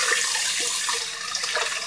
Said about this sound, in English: get a little warm water in there